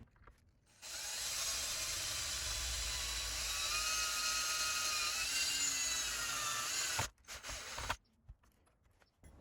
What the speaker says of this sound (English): I spun on one of the nuts here just to keep this aligned while I drill it